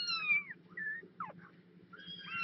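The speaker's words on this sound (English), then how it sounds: "what an elongated mew" Kitten giving several drawn-out, wavering mews, one noticeably long, close by over a low steady background hum, with no voices.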